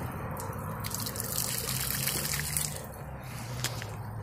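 Water trickles and drips steadily from a roadside freshwater spring in Florida, a soft continuous splashing up close.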